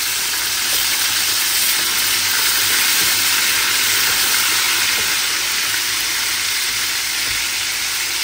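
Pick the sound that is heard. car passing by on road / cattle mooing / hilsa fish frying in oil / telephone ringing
hilsa fish frying in oil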